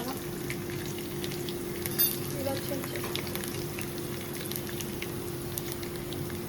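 Dried red chilies sizzle and fry steadily in hot oil for a dal curry, a continuous close crackle with occasional light utensil clinks.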